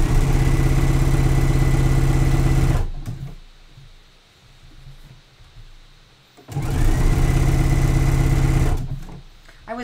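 A sewing machine topstitching black spandex pleather for a swimsuit makes a loud, steady mechanical whir in two long runs. A quiet pause separates the runs.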